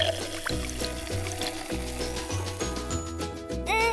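Soda pours steadily into a container in gurgling, glugging pulses, ending with a rising tone as it fills.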